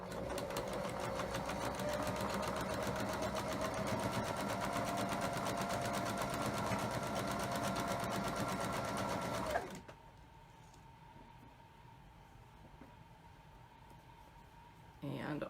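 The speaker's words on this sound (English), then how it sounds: "so that I can see my seams as they pass under the needle and make sure everything stays flat and lined up." A sewing machine chain-piecing Dancing Nine Patch quilt blocks runs loud and steady with a fast, even stitching rhythm for about ten seconds, then stops abruptly, leaving a quiet hum with faint handling noises.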